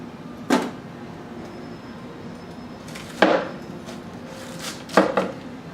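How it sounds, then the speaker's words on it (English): A Damascus nakiri knife cuts through dense, fibrous fennel on a cutting board, giving three separate sharp chops with short crunchy tails, spaced a couple of seconds apart in a quiet room. "next we're going to try slicing up some fennel here"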